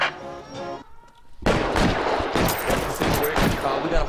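Gunfire from a holdup shootout in the video game L.A. Noire: a quiet stretch, then from about a second and a half a dense, loud burst of overlapping shots and rapid fire that runs without a break to the end.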